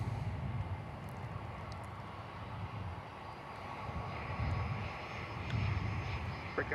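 A Turkish Airlines airliner approaching runway 9 at Miami airport, a broad low engine roar that swells and fades slightly while staying fairly distant and steady, with no talking.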